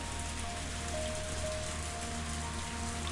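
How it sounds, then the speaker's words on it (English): A torrential downpour in the Higurashi video game, heard as a steady, dense hiss of rain pattering on surfaces, even and unbroken throughout, with no voices. "a torrential downpour started, as though trying not to disappoint him"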